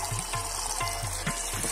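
Water runs steadily from a tap for tea-making, a continuous close splashing stream with a few low gurgling pulses underneath.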